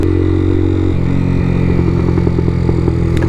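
An AJS R7 125cc sports motorcycle revs higher out on a national speed limit road, a loud, close, steady engine drone with a pitch shift about a second in and light clatter over it, no talk.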